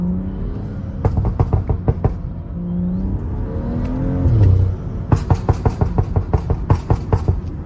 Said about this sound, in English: I have the short overrun brap sound